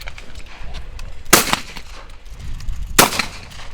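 Two sharp shotgun blasts at a shooting competition shoot-off, loud and a second and a half apart, standing clearly above a quiet outdoor background.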